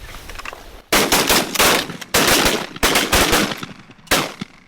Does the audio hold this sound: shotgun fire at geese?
yes